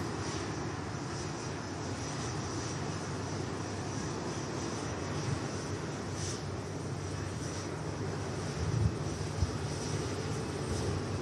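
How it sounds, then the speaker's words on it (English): Jet airliner engine roar at Manchester Airport, a Boeing Dreamliner, heard as a steady broadband rumble held at an even level throughout, with a couple of brief louder bumps near the end. "A Dreamliner about to come into shot as well"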